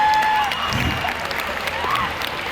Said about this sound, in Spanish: un fuerte aplauso para mis invitados especiales